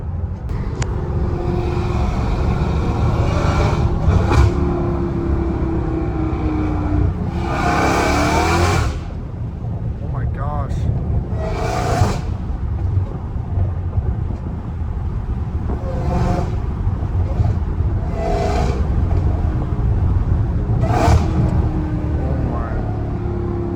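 A Dodge Hellcat Redeye accelerates hard, its supercharger whine rising in repeated surges over engine roar, with people talking and shouting inside the car between pulls.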